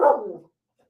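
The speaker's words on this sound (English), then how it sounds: "Ray, don't bark." A single dog bark, one short loud woof close to the listener that fades quickly into silence.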